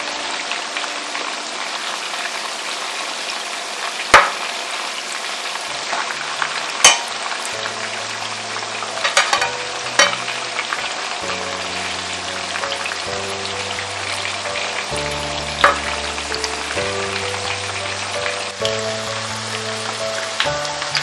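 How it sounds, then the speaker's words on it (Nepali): Chicken roasting and frying in a pan sizzles steadily for around twenty seconds, a close, even crackle with sharp pops and scattered clinks of stirring, while low musical tones play underneath. "ल अब हाम्रो चिकन चाहिँ मजाले फ्राई भइसकेको छ।"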